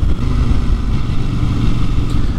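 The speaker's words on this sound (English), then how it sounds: "I think the best way I can describe this engine is it's a little grunty" A CFMoto 800NK motorcycle engine, a somewhat grunty, not fully smooth twin, rumbles loudly and continuously at close range, with a heavy low throb and wind noise throughout.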